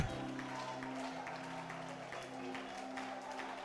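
Church congregation applauding during worship, a steady wash of many hands clapping, fairly faint and distant under sustained organ or keyboard tones and a voice.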